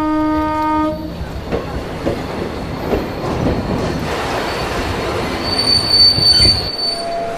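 An express train passes close by with a horn blast at the start, followed by loud squealing wheels over the rhythmic clatter of rail cars.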